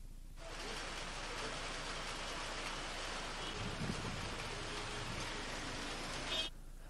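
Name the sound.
rain falling in Mussoorie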